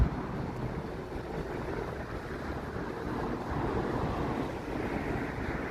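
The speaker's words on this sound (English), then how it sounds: "It's a little windy out here today." Wind outdoors during a walk in Las Vegas, a steady broadband rush with microphone buffeting throughout, no talk.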